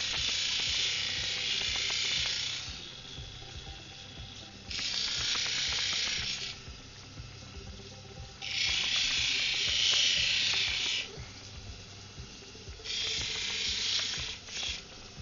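A water-fed rock polishing wheel machine drones continuously while four loud, rasping grinding stretches rise and fall as stone meets the wet wheel; nobody speaks.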